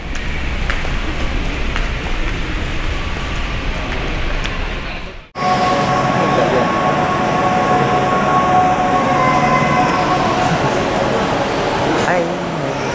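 A new KRL electric commuter train rumbles past at close range near Tanjung Priok Station with a steady roar and high electric whine, briefly cut off midway before the noise resumes just as loud.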